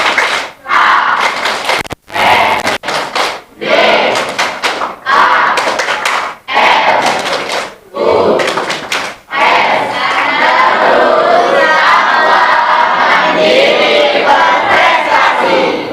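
An audience at an anti-bullying school seminar performs a rhythmic clap chant, loud sharp claps in bursts with shouted group voices, then rising into sustained loud crowd cheering and shouting in the later half.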